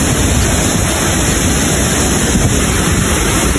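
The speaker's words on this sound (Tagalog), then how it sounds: "malakas yung bagsak ng tubig" Loud, constant roar of rushing water at Naglahao Falls in Irosin, Sorsogon, a dense broadband wash of a powerful waterfall close by, with no voices.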